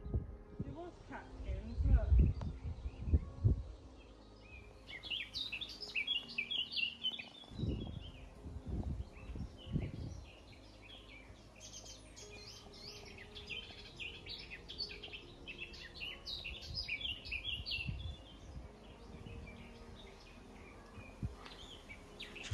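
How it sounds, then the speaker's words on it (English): Birds chirp and sing in a breezy woodland, scattered tweets at moderate distance, with low wind rumble and brief handling thumps early on and people talking quietly in between. "the breeze and the bird song."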